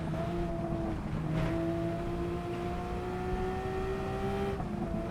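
A Porsche race car in Gran Turismo 7 at the Nurburgring, its engine holding a steady, loud tonal drone that climbs slowly in pitch with brief dips at gear changes, heard continuously with no talk.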